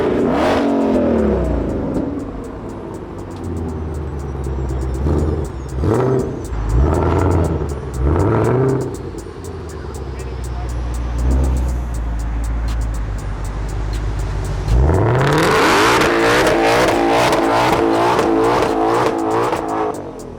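A new 2020 Shelby GT500 engine revs hard in repeated bursts, rising and falling, then roars into a long sustained high rev near the end.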